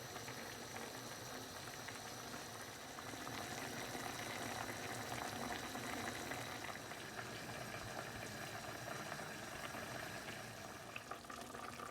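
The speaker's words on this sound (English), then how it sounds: "Let the rice cook in the stock until it bubbles. Now it's bubbling." Rice simmering in stock on high heat in a home kitchen pot, a dense, steady bubbling and fizzing throughout, close and fairly quiet, with no voices.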